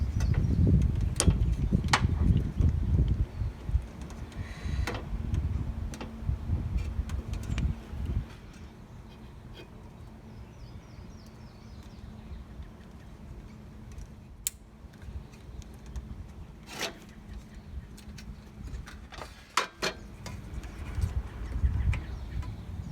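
A flathead screwdriver prying and wiggling a plastic connector tab loose on a 6th-gen Toyota Celica 5SFE during radiator work, heard as scattered close clicks, taps and scraping over a low steady hum.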